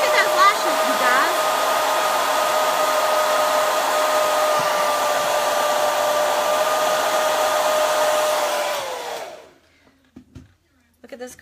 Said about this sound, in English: I'm going to blow dry my hair. It's going to go up crazy.